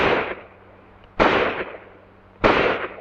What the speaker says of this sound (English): A carbine.